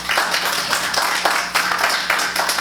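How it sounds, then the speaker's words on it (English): People in the audience at a city council meeting clap together, close and loud, a brisk crackle of many hands with uneven bursts that keeps going to the end. "I would ask the audience not to applaud during our deliberations."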